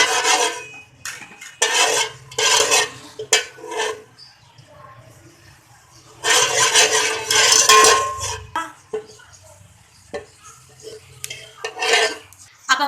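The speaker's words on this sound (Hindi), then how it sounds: "अब हमने इसमें 2 बड़े चमचे तेल लिया है, और इसमें हमने डाला मेथी दाना और हींग।" Fenugreek seeds and asafoetida cook in hot oil for pakora kadhi while a spoon stirs and scrapes the pan in repeated loud bursts, with a quieter fry between them.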